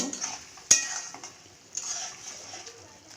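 Fried puti fish being stirred in boiling gravy: a sharp clink of utensil on pan, then scraping stirring strokes over a soft steady sizzle, close by with no talk.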